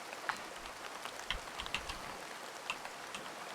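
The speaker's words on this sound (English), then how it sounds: "To be fair, I wouldn't like rain too if I worked outside." Soft rain patters in the video game Horticular, a light, steady hiss of drops with scattered brighter taps, quiet and without talk.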